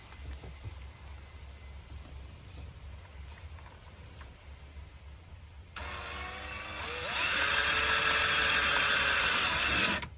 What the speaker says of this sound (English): These are self-tapping screws.